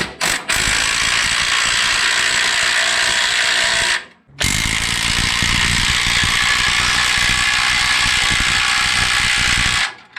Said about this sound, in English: These spring compressors are an absolute lifesaver, guys.